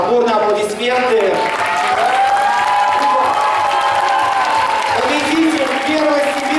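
Audience at a Siberian Tatar KVN comedy festival applauding and cheering, loud dense clapping under an announcer's voice and what sounds like music, with crowd noise throughout.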